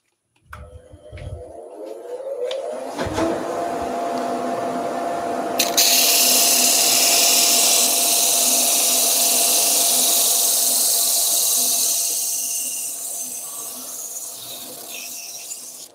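A wood lathe spins up and runs steadily with a dust extraction system roaring alongside, a loud continuous hum with a sharp rise in hiss partway through as the extractor kicks in, no talking.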